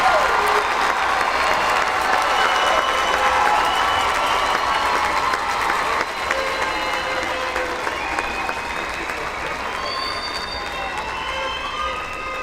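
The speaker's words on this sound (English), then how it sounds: "Let's have a round of applause for our 2026 master's degree graduates." An audience at a spring commencement ceremony applauds the master's degree graduates, a sustained, dense wash of clapping that carries on evenly for several seconds with faint cheers mixed in.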